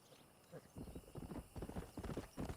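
A horse's hooves clip-clop in a quick uneven rhythm in the Red Dead Redemption video game, with a whinny mixed in, fairly quiet and close.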